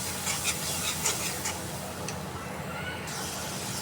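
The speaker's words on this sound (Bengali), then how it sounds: "ছোলার জন্য মশলা কষাই নিতেছি।" Spices are frying in a pan for chickpeas: ginger, garlic, coriander powder, cumin and green chilies. A steady close sizzle and hiss carries a few light scraping stirs.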